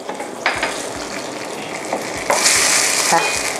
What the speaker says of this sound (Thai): แล้วก็เคี่ยวผัดเคี่ยวกันอย่างนี้นะคะ จนกระทั่งหมูหมูสับสุกนะคะ